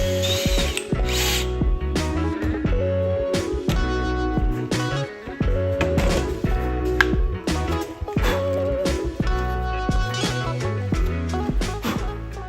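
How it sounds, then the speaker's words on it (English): A power drill bores a concealed hinge hole in a cabinet door using a Kreg concealed hinge jig, loud close whirring bursts repeatedly starting and stopping with ratcheting clicks between runs, no talk. "what I'm gonna do is I'm gonna attach my drill"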